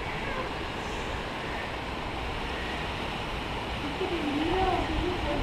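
Waterfall at Minas, Lavalleja in Uruguay, with bathers in the pool: a steady, broad rush of falling water heard from a distance, with faint voices rising briefly near the end.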